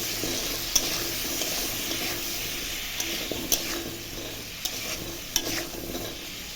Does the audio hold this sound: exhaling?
no